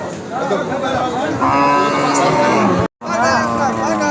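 A cow lows in long drawn calls amid the hubbub of the Aricha cattle market, where cows with calves are sold, with crowd voices and chatter around it and one abrupt brief cut.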